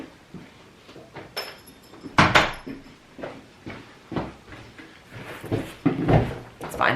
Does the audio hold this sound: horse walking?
no